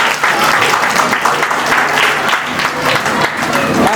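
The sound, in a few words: audience applause at scholarship award ceremony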